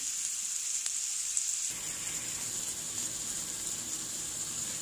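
Food sizzles and fries steadily in a pan as part of keto meal prep, a constant crackling hiss that grows denser after a short quiet start, with no voices.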